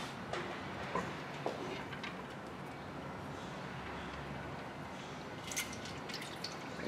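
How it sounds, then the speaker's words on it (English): Engine oil from a 2001-2005 Honda Civic 1.3L hybrid draining out of the oil pan into a catch basin: a faint, steady pouring trickle with occasional drips, continuous and fairly close. "We're gonna let that drain out."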